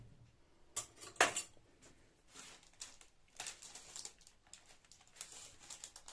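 A spoon scrapes and taps against a dish in short irregular bursts while spreading filling on dough, with soft smears and clinks, close and fairly quiet.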